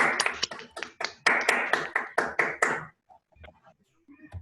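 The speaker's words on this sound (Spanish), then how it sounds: "un aplauso para él, por favor" A small group of people clap for a guest speaker in a class held over Zoom, a short burst of uneven claps that stops after about three seconds, followed by faint scattered noises.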